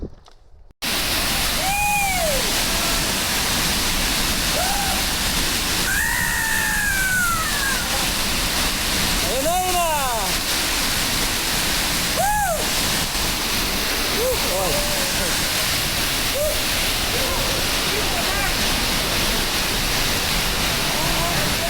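A loud, steady broadband roar of a waterfall fills the whole stretch close by, with wavering whistle-like tones rising and falling over it.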